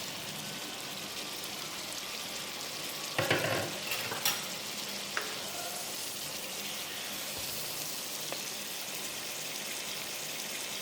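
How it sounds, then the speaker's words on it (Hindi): Spices and yogurt sizzle softly in a pan for achari baingan, a faint steady frying hiss broken by a few scraping stirs near the start. "आप इन मसालों को इस दही के साथ मिक्स करते हुए पकाएंगे।"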